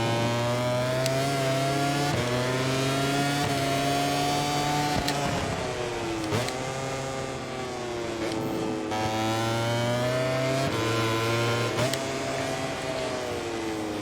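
Aprilia motorcycle engine in the racing game MotoGP 24, revving hard and steadily with a string of quick gear shifts, each upshift dropping and then rebuilding the pitch, loud and continuous with no talking.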